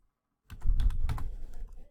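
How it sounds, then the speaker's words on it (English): Rapid keystrokes on a computer keyboard as a book's ISBN number is entered, a close, steady burst of clicky typing that begins after a short silence and runs to the end. "I can just type in the ISBN, which is found on the inside cover of all books"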